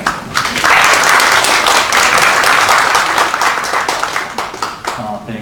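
An audience applauds to welcome a speaker at a church-related public gathering. The clapping is loud, dense and sustained for several seconds, with no voices over it.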